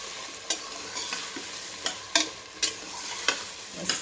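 Potatoes for pav bhaji are stir-fried in a pan, giving a continuous soft sizzle broken by sharp spatula scrapes and taps roughly every half second to second.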